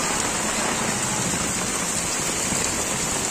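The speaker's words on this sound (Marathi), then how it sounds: "बघा मित्रांनो पाऊस काय पडतोय एकदम जोशमध्ये." Heavy rain pours steadily in Virar, a dense, unbroken hiss of downpour on waterlogged ground, loud and constant throughout with no voices.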